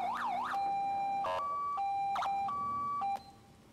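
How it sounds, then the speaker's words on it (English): Police car siren in the Roblox game Lawcountry. A warbling wail gives way to a steady two-tone hi-lo pattern, loud and close, with no talking over it. "And then you got your lights and sirens."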